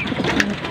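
Racing pigeons returning home to the loft after a 137 km training flight, cooing softly and repeatedly at close range, with a steady bed of light background noise and no talk.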